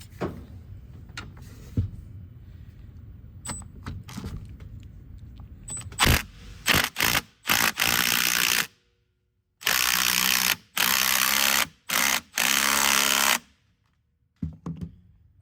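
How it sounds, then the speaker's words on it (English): On a C3 Corvette leaf spring, a ratchet tightens a nut on a round-head bolt with bursts of rapid clicking, broken by short pauses and louder sustained runs near the end. "just use a vice grip and hold that in while you tighten on the nut"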